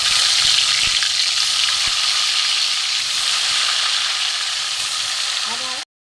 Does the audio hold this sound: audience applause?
no